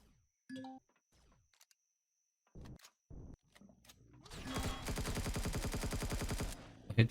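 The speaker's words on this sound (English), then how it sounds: "Somebody's still firing at me" Gunfire in the space survival video game Empyrion Galactic Survival with the Reforged Eden mod at a drone base. A few isolated shots are followed by a sustained rapid automatic burst of about two seconds, loud and close, with no talk.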